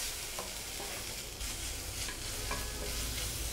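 Spices and ground cumin-pepper powder stirred and sautéed in a hot pan for Tamil green gram gravy, a steady close sizzle with soft scraping stir strokes throughout, no voices.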